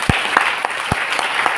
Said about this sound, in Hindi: अपने पति के लिए मैं जबरदस्त ताली चाहती हूँ।